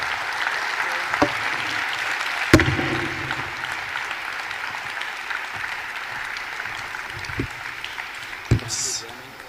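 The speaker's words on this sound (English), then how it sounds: "One more round of applause for a wonderful panel." An audience at a panel session claps steadily through the whole stretch, a broad, even roar of applause heard from inside the hall, with a few louder knocks and a speaker talking over it.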